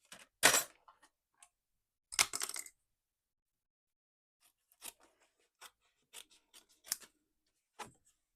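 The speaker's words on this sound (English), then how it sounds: "So I'm just going to snip the bottom off." Scissors snipping a paper die cut up close in a quiet craft room, with two louder cutting bursts early on followed by a scattering of small, sharp snips and light paper handling.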